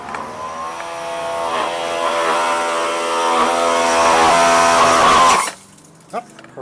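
A Greenworks 2300 PSI electric pressure washer runs with a loud, steady buzzing motor whine close by, then cuts off abruptly near the end, leaving a few faint knocks.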